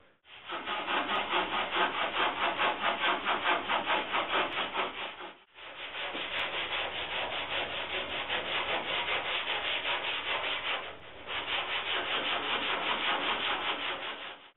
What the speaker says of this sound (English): I'll take this block and sand the rest of the guide coat off